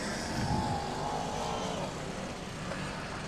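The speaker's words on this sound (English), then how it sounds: "The leading cars now round turns 1 and 2" BriSCA Formula 1 stock cars race round turns 1 and 2 in a continuous, dense engine roar that holds steady throughout with a slight swell early on.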